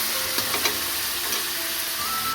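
Food fries in a pan while cooking chicken chow mein, with a dense continuous sizzle close by, a few light spatula taps and stirring clicks, no voices.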